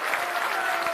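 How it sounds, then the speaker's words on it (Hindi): Steady applause from an audience welcoming a speaker at a Jan Suraaj workshop at an ashram in Bihar, a dense even clatter of many hands filling the whole second with no voice on top. "कर्तन ध्वनि से आवाज होनी चाहिए, तालियों से।"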